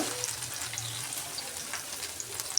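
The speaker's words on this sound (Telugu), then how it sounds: "ఫ్రై అవుతుంది కరివేపాకు కొద్దిగా" Curry leaves frying in hot oil for a Madras-style festive mixer snack, a steady close hiss and crackle that runs alone throughout.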